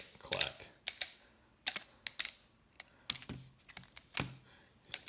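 Sharp metallic clicks and clacks from a Squid Industries Squiddy-C balisong trainer being flipped, arriving in irregular close bursts of two or three with short quiet gaps between them, near and crisp with no talking.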